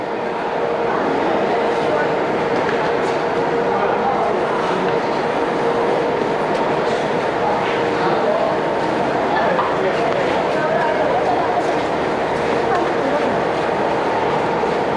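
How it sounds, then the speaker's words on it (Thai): A train rumbles steadily through a busy station on Yangon's Circular Railway in Myanmar, with people talking and the bustle of the platform around it throughout. "ตอนนี้รถไฟมาแล้วนะ"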